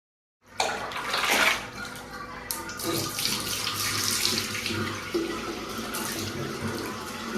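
Steady running water rinsing curly hair under a tap or shower, a constant splashing wash that starts abruptly and continues throughout, near and fairly loud with no talking.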